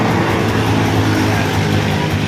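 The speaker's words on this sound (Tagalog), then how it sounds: "Okay na po, wala pong kaingay-ingay na yung kanyang makina." A repaired motorcycle engine idles steadily and quietly, its fine, even knock now smooth, with a constant low hum and no talk over it.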